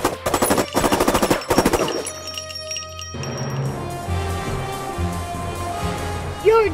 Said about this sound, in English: right, and rear machine guns.